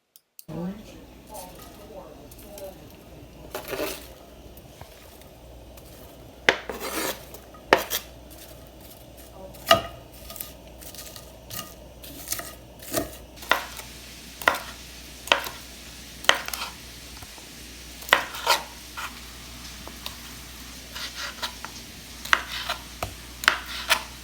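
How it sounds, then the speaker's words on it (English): Repeated sharp knife strikes on a cutting board slicing onions, irregular at first and then steadier, close by with faint kitchen clatter underneath. "We're going to start by slicing 2 onions to saute."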